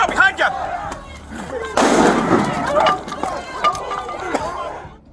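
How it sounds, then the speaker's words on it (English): Firecrackers thrown by protesters at police burst in a series of sharp bangs, one loud blast followed by rumbling crackle and several more pops, amid shouting and crowd chatter. "recklessly throwing firecrackers that result in powerful explosions, shaking the atmosphere"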